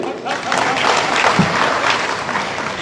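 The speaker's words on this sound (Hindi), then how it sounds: "ताली बजाइए उनके लिए" Crowd applause fills the space, a dense wash of clapping, with shouting voices mixed in throughout.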